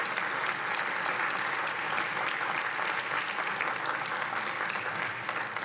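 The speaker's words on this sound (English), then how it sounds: "Let's give another round of applause for those participants." Sustained applause from an audience at a business pitch competition, honoring the participants; dense steady clapping fills the whole stretch with no talk over it.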